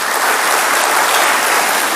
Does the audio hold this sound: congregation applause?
yes